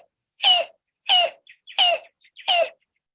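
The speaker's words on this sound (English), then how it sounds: "And then yellow-billed cuckoos, when they're actually singing territorial song, they sound like this." A yellow-billed cuckoo's territorial song from a played recording: four harsh, clucking bursts evenly spaced about half a second apart, loud and close with quiet gaps between, nothing else heard.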